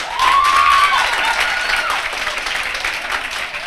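An audience at a university public interest litigation moot court competition bursts into loud, sustained applause after a winner is announced, with steady clapping that fades slightly while voices murmur underneath.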